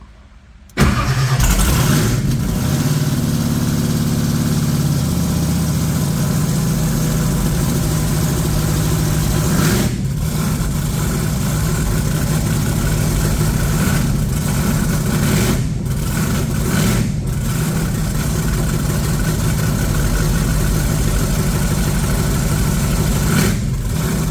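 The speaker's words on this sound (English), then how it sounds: "I'll start it up and I'll put it in first gear, give it a little rev and see how much it goes up." A car engine cranks and catches, then runs loud and steady close by in first gear with slight revs, while the gearbox is suspected of running hot; the engine note holds near-constant throughout, with no talking.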